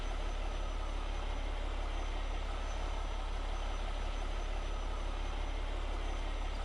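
Steady, loud low rumble of a truck engine idling and running while a trailer load of grass is dumped in Farming Simulator 22, a constant drone with no distinct breaks.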